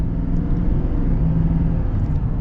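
A 2022 Chevy Silverado 3500 High Country heavy-duty pickup's engine pulls steadily under acceleration, a deep continuous rumble heard from the cabin, smooth and even with no speech.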